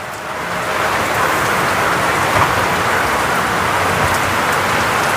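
Steady, continuous rain falling in a broad even hiss, with scattered drops tapping on surfaces and no voices; it holds at a constant level throughout.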